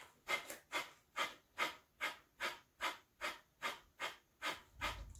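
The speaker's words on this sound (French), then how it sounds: "Il va s'agir d'expirer de manière très rapide et très saccadée pour 15 répétitions. Donc vraiment par le nez." About a dozen rapid, forceful nasal exhalations during an energizing yoga breathing exercise, evenly spaced and pumping in a steady rhythm, close and fairly soft with no talking.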